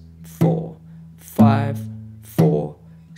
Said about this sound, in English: And I'm muting with my palm of the right hand to just get the strings to have that kind of muffled sound.